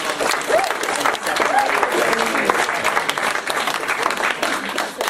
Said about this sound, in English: Please give a really hearty round of applause